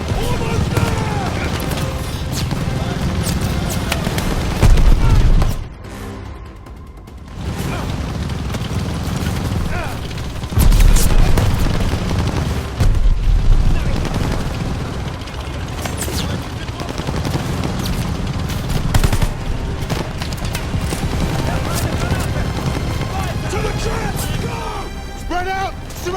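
Call of Duty battle with a half-track, loud sustained machine-gun fusillades and booming blasts rolling almost continuously, under shouted soldier voices.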